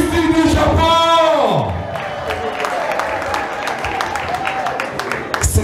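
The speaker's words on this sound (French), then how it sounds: "des applaudissements pour le sapeur de la soirée, Christine du Japon" An audience at a sapeur fashion contest night in Washington claps and cheers for the winner, a loud crowd roar with whoops under a voice shouting over it, settling into steady applause.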